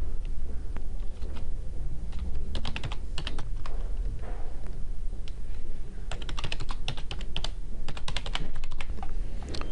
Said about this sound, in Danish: skal jeg nu skrive den e-mailadresse, jeg brugte, da jeg oprettede min Google-konto, og efterfølgende den adgangskode